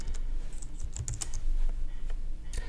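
Typing on a computer keyboard while searching the Windows 10 settings, with a quick run of close, crisp key clicks and a short burst near the end, no voice over it.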